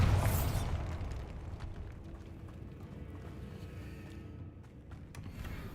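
A Bombarda spell blast in Hogwarts Legacy bursts loud at the start, then decays into a rumbling, crackling tail with scattered small debris pops over the next few seconds.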